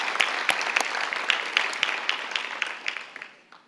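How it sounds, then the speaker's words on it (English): Audience applause honoring teen parenting program workers at a youth health awards ceremony, with distinct individual claps standing out as the clapping gradually fades away. "Would all of you please stand so we can just give you a round of applause for all that you do."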